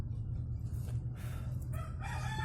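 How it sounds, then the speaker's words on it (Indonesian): A sick bangkok chicken with ngorok, a snoring respiratory illness, is heard close up: a rooster-like crow and clucking over a constant low hum, with short hoarse rattly calls near the end. "Ini ayam ngorok guys. Tuh. Dengerin guys."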